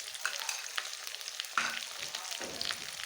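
Chopped tomatoes with ground chilli paste and cumin paste sizzle in hot oil for a vegan jackfruit curry, a steady crackling fry with scraping stir strokes near the pan and no talking.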